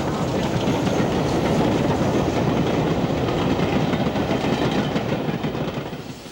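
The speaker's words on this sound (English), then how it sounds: "a freight on the adjacent line has a Birmingham Type 3 diesel, later known as Class 33," A freight train hauled by a Birmingham Type 3 Class 33 diesel rumbles past close by, a loud, dense, continuous roar of wagons and wheels with rhythmic clatter that eases slightly at the end.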